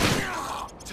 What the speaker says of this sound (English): Changing map. Reloading.